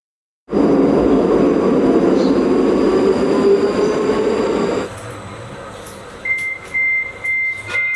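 A loud rolling rumble of a tram on rails in Scotland fills the air, then drops off; afterward, short repeated high electronic beeps sound nearby.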